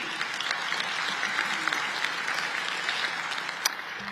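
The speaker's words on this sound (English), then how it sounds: "This is your applause" Steady applause from a forum audience at the Astana International Forum, a dense patter of many hands clapping at moderate volume without pause.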